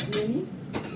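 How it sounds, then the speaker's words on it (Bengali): A metal kadai being washed: a quick scrape and clatter of dishware, then a second burst of clinking and rinsing, brief and close. "কড়াটা ধুয়ে নিই।"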